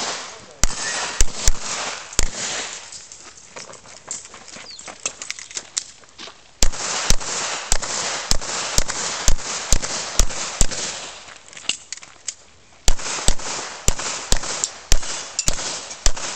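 Handguns fire at an IPSC practical shooting competition in Honduras, with sharp, loud shots in quick rhythmic strings separated by brief pauses, over a constant outdoor hiss.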